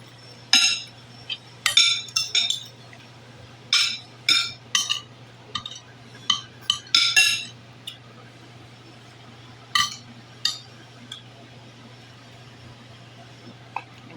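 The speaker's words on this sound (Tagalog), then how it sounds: "Maingay po kumain yung mister ko." Dishes and cutlery clink sharply and irregularly at home as someone eats, scattered bright taps and scrapes over a low steady hum, with no talk.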